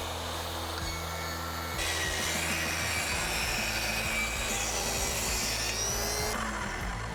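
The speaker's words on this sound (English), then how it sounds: "you have to start this track saw on the track" A track saw cuts wood at a one-inch depth, a steady close whirring drone with a rasping edge. The pitch shifts slightly as the blade moves through the board, and no one speaks.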